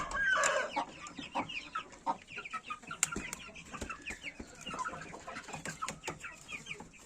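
Many chickens cluck and chatter together close by, with scattered higher peeps from chicks and occasional sharp squawks over a busy farmyard din.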